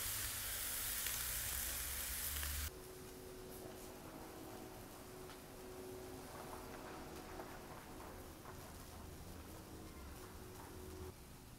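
Blackened catfish fries on an oiled Blackstone griddle, giving a steady, close hiss that runs throughout after a louder burst at the start.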